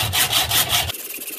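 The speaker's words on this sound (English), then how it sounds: "I'm going to take my hacksaw." A hacksaw cuts through a screw held in a vise, making a few quick, close rasping strokes that stop abruptly after about a second.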